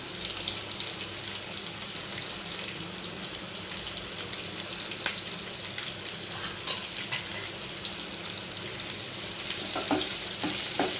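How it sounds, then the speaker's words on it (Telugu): Onion pieces fry in a tempering for semiya upma, giving a steady, moderately loud hiss and crackle of hot oil that runs unbroken throughout, with a few faint clicks and no talking. "దీంట్లోనే ఇప్పుడు ఉల్లిపాయ ముక్కలు వేస్తున్నాను"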